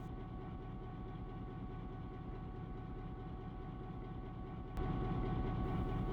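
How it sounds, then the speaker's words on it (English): GP9 diesel locomotive number 1413 idles with a steady low rumble while pushing steam locomotive A3 2750 back into the Sitgreaves Shops; the engine note swells louder toward the end. "1413 backs her up into the Sitgreaves Shops"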